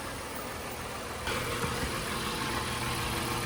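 A 2025 Honda Odyssey engine idles steadily right after an oil change, a smooth, even, close hum that holds constant and grows slightly louder partway through, with no talking.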